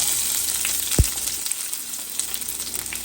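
Chopped ginger and garlic hit hot oil with roasted mustard seeds for a Maharashtrian zunka, giving a brief thump and then a steady, close, crackling sizzle.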